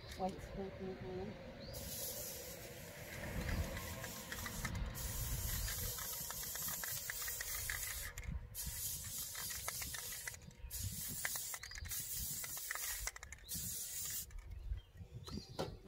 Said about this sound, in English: I'm gonna go ahead and get my white spray paint on